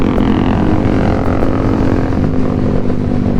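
Honda CBR 250 motorcycle engine and exhaust droning steadily at close range, a loud continuous rumble with a constant tone and no pauses.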